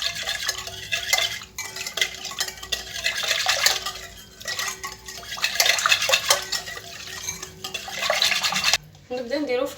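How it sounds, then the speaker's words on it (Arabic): Oil, vinegar and salt stirred together in a bowl for a stuffed pastry dough, with repeated scraping, clinking sweeps at a steady rhythm, close up and fairly loud, and a short pause near the end. "نخلط كامل هذو المقادير مع بعض"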